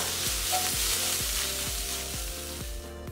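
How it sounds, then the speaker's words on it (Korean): Canned tuna and scrambled egg stir-fried in a hot pan make a steady, close sizzle, broken by regular scraping strokes of the utensil as the mixture is tossed, with no voices. "그 다음 참치 넣고 골고루 볶아주고"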